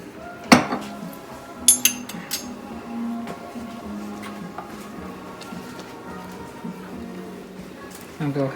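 A spoon scrapes and knocks around a pot of black bean and squash soup as it is stirred, with a few sharp metallic clinks and a soft continuous rattle, fairly close and moderately loud.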